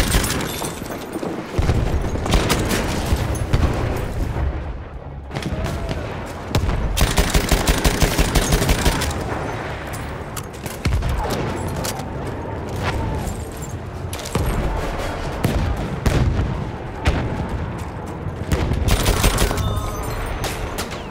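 ChauChat machine gun from the Battlefield 1 video game firing in long loud bursts, dense rapid shots with a short break, mixed with booms and battle noise throughout.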